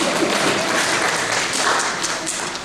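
An audience claps steadily throughout a church evangelism sermon, a dense, continuous wash of many hands that holds level and then eases slightly toward the end.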